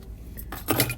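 Suzuki Swift car keys jangling in a hand, a brief bright metallic rattle that swells toward the end of the second, close by over a low background rumble.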